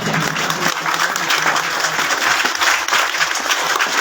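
Steady audience applause fills an annual school results ceremony in Mandi Bahauddin district, dense clapping at an even level throughout with no speech over it.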